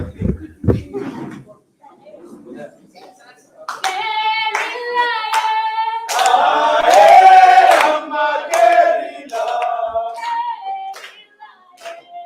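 An audience claps in bursts at a lively gathering, the sharp hand strikes mixing with sustained sung or voiced tones that swell in the middle and then taper off.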